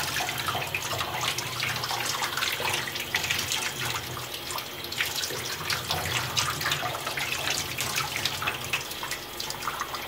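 Water runs steadily from a tap, a continuous close splashing hiss that holds without a break.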